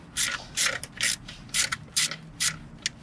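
Hand ratchet clicking in short rapid bursts while loosening a small bracket bolt on a Suzuki Samurai, about seven quick close ratcheting spurts separated by brief pauses.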